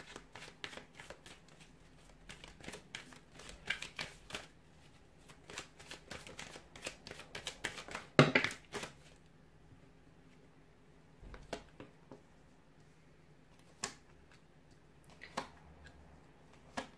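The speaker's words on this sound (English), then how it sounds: "we'll give the cards a shuffle and see what they're predicting for you this coming month" Tarot deck shuffled close by in a quiet room: a rapid run of papery riffling snaps, one louder burst in the middle, then sparse single card clicks and soft rustles, with no voices.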